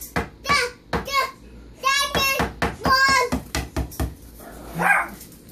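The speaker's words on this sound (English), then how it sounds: "Dog." A dog indoors in a kitchen barks repeatedly in sharp, loud bursts with a few yips, mixed with a voice and other talk.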